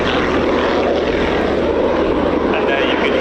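An aircraft fitted with Lynx turbojet engines roars loudly and continuously at an airshow during a knife-edge takeoff, a dense engine drone with a faint whine toward the end and crowd voices underneath.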